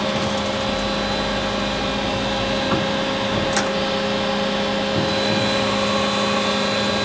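Steady machine whir of a Star SA 12 CNC Swiss lathe with its sub spindle running at 2000 RPM during a rigid tap cycle, a constant tonal hum with a few faint clicks, loud and close throughout.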